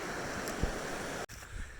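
A creek flows in a steady broadband rush along the Appalachian Trail, heard close and continuous, with a brief handling bump near the end.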